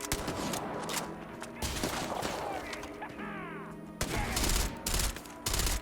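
Sci-fi gunfire in Starfield on a low-gravity planet, several sharp shots in bursts spread across the moment, a dense laser-like sweep in the middle, mixed with game ambience and occasional voice.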